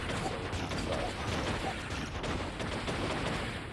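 Dense, continuous gunfire from the Stranger Things 3 video game, a steady loud barrage of rapid shots filling the whole stretch with no pauses.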